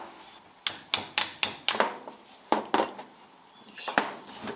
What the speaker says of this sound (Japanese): とりあえずこの古い方もちょっとボルトを外して